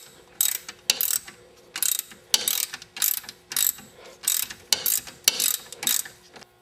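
Ratcheting driver clicks in a steady series of short bursts, about a dozen rhythmic ratchet strokes, while self-tapping screws are driven into an ABS bracket on a 2000 Pontiac Bonneville during a strut replacement; close and clear with no talk.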